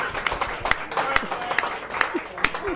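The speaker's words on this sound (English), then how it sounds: "Let's give a round of applause for the Lady Obama Academy girls basketball team." Scattered crowd applause for the Lady Obama Academy girls basketball team, moderately loud and mixed with sharp individual claps while a voice talks over it throughout.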